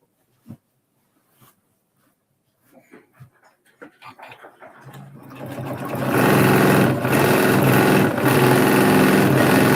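A home sewing machine runs steadily while quilting, starting after about five seconds of scattered small taps and handling noises and then holding a loud, even whir to the end.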